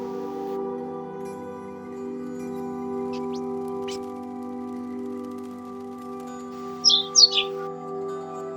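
Sparrow mob in a Minecraft Bedrock addon giving a few brief high chirps, two faint early and a quick louder cluster near the end, over a steady low electronic hum.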